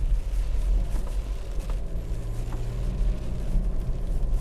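Holden TrailBlazer engine straining as it climbs a muddy hill on street tyres, a deep continuous rumble with rising and falling revs and some cabin buffeting, with no talking.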